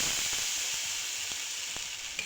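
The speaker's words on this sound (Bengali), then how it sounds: "কড়াটা খুব ভালোভাবে গরম করে নেবার পর আমি 2 হাতা ব্যাটার দেখো কড়াইয়ের মধ্যে দিয়ে দিচ্ছি" Two ladlefuls of rice batter for chitoi pitha hit a well-heated kadai, giving a close, continuous sizzle and crackle with faint pops, and no one speaks.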